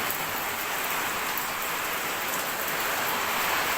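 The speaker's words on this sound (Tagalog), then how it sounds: "Umuulan sa labas." Heavy typhoon rain pouring outside a house in the Philippines at night, a dense, steady roar of falling water and drops hitting surfaces, continuous and fairly close with no talking.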